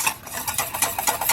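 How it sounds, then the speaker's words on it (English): Whisk scraping rhythmically through thickening egg-yolk pudding in a pan lifted off the heat, a steady brisk swishing beat of strokes, close and clear. "And I'm going to actually lift it up off of the heat and continue whisking the entire time."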